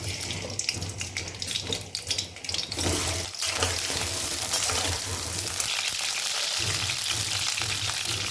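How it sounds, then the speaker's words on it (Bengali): Potatoes sizzle loudly in hot mustard oil, a dense steady hiss that surges after a few seconds and keeps crackling close by. "তেলটা গরম হয়ে গেছে, আমি এবার আলুটা ছেড়ে দিচ্ছি।"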